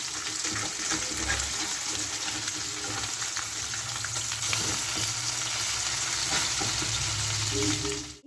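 Small Amudi sea fish fry in a pan of hot oil, giving a steady, dense sizzle that holds close and even for several seconds, with faint utensil clinks near the end.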